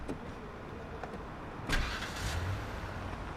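A car engine in the police patrol game Police Simulator: Patrol Officers cranks and catches partway through, a sudden broadband burst that settles into a steady running rumble over faint background ambience.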